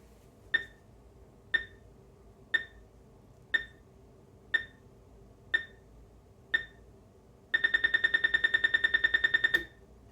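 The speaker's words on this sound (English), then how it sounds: "When we start the timer, we hear a beep every second and a longer alarm at the end of the timer run." A Heathkit PT-1500 darkroom timer gives seven short electronic beeps spaced one second apart, then a rapid pulsing alarm for about two seconds before stopping; clear, close and with no voices.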